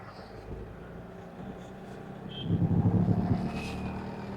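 A Mahindra Supro light commercial vehicle's engine is heard from inside the cab while driving in power mode, a low steady hum that grows louder and more throbbing midway as the engine pulls harder.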